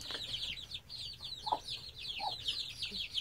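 A backyard flock of chickens clucks steadily nearby, with soft repeated clucks layered over higher chirping from young birds and a constant low background hum.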